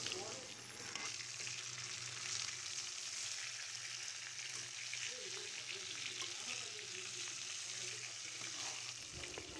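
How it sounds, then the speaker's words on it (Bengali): Pieces of fish head fry in hot oil for a village-style fish-head mashkalai dal, giving a steady, loud broadband sizzle that runs unbroken through the whole stretch with no voices. "এখন মাছের মাথার অন্যান্য অংশগুলো দিয়ে দিচ্ছি, এগুলো আমি লাল লাল করে ভেজে নিব।"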